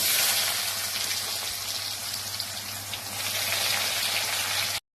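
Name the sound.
onions frying in oil for tilapia curry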